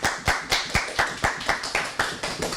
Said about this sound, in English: Let's give all of our scholars a round of applause